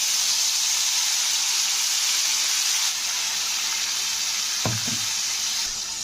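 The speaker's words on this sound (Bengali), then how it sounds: "এটা ধনেপাতা দিয়ে এবারে একটু কষে নিতে হবে তেলের সঙ্গে" Coriander leaf paste fries in oil with turmeric in a pan for green rice, giving a steady close sizzle with a brief stir or clatter near the end.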